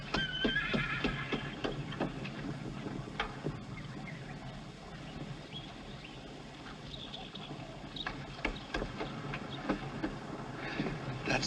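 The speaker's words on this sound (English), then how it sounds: "Look at him running away from the other horse." Racehorses running in a race, hooves clattering in a rapid continuous rhythm with a whinny and busy track noise around them, steady and fairly loud throughout.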